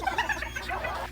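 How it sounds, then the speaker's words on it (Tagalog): A chicken clucks softly in a short burst of quick, close calls against low background rumble. "Buti pa yung manok nangingitlog oh."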